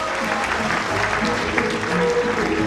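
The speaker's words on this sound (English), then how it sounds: "give a round of applause to our musicians tonight" An audience at an old-songs music show gives the musicians a round of applause: continuous, fairly loud clapping throughout, with some tonal sound and faint voices mixed underneath.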